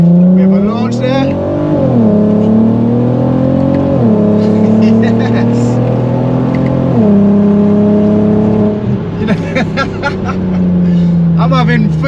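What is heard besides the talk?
Audi TT MK1 V6 3.2 launching and accelerating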